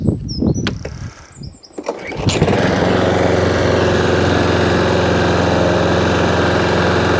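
Scrap lawn mower with its engine on choke struggles to catch after a few clattering pulls, then settles into a loud, steady, close drone with no talk over it.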